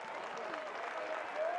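Crowd at a college baseball game between Clemson and Miami cheering and clapping for a junior right-handed pitcher, a steady roar of applause with whistles rising near the end, under a commentator's voice.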